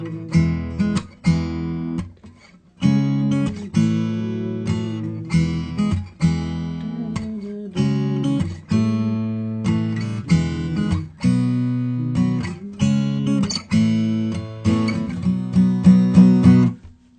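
An electric guitar strums a chorus of chunky power chords in rhythmic bursts with short pauses between phrases, played alone with no singing.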